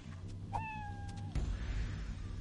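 A single short cat meow from the mobile game Fallout Shelter, a clear rising-falling cry followed by a soft thunk, heard alone without talk.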